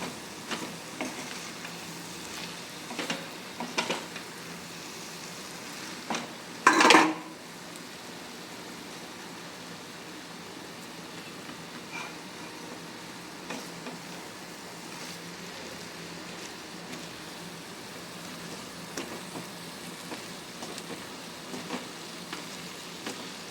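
Okra sautés in a pan, giving a steady, soft sizzle throughout, with one brief louder clatter near the start as it is stirred.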